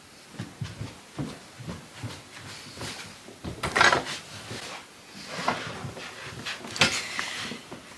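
A wooden clothing drawer under a bed slides open with a run of close, uneven knocks, scrapes and rattles, with louder thuds midway and again near the end.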